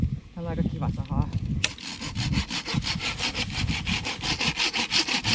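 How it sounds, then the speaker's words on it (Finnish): A Japanese folding saw cuts wood outdoors while a campfire is prepared, opening with some rustling and handling noise, then settling into fast, even rasping strokes that repeat steadily and sound close. "Japanilainen taitto saa. Perhanan kevyt. Tässä on tälleen aika kiva sahaa."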